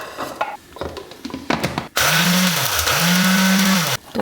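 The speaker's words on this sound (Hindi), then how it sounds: "ये थोड़ा सा हम मोटा मोटा दरदरा सा हम इनको ग्राइंड कर लेंगे" An electric grinder coarsely pulses roasted whole spices for seekh kabab, a loud whirring burst of about two seconds that dips briefly mid-run, preceded by scattered rattling and handling clicks.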